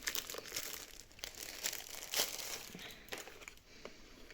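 Plastic packaging around a set of nylon paintbrushes being handled and opened, giving a continuous close, fairly quiet crinkling with scattered sharper crackles and no voices.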